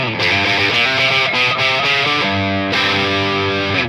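Victory Sheriff 25 two-channel guitar amp switched to its other channel, giving a loud, continuous distorted electric guitar riff with chords and single-note runs, steady and upfront with no talking.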